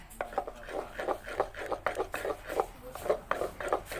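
Fish being beaten by hand with cooked fermented fish sauce (pla ra) for laab, heard as a steady run of soft, wet, rhythmic slaps and knocks, close and moderately loud, about four or five strikes per second.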